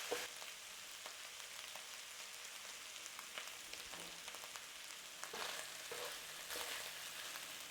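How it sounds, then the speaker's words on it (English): Beef empanada filling fries and sizzles in a pan while it is stirred to char, giving a steady broadband hiss with scattered scraping clicks throughout, moderately quiet and close, with no talking. "we want to get some charring on there, and we'll keep stirring it through to char up quite a lot"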